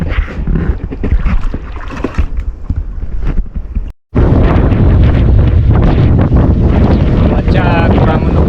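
Strong wind buffets the microphone on a small fishing boat at sea during a storm, loud roaring gusts with a brief dropout midway, while people talk underneath.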